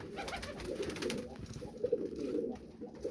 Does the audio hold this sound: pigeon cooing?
yes